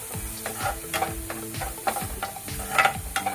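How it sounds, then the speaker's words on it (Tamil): Garam masala, turmeric and salt are dry-sautéed in a pan with chili, a spatula scraping and tapping in a repeated rhythm over a light sizzle, close and clear with no talk. "அடுத்து மஞ்சத்தூள், உப்புத்தூள் போட்டு இதுவும் மிளகா ஸ்மெல் போகாதோ கொஞ்ச நேரம் வதக்கினா போதும்."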